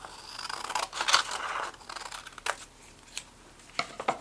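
Paper snipped with scissors along the spine line of a handmade mini photo album cover, a run of soft close crisp cuts followed by a few sharp isolated snips, with no talking.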